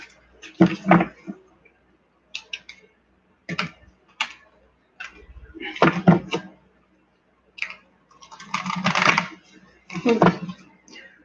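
Cards being shuffled in short separate bursts of riffling and flicking, close up, with quiet gaps between them.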